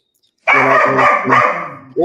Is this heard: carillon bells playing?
no